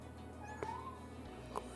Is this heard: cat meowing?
yes